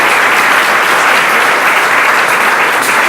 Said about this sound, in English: Maxwell's team, can we give them a huge round of applause?